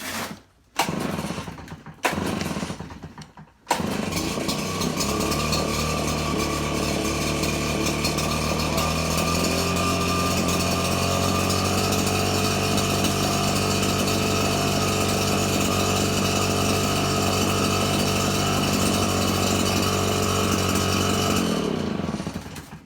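A RedMax string trimmer engine is pull-started and then runs at a loud, steady, high-pitched two-stroke whine for about twenty seconds, holding a constant drone after a few short sputters at the start.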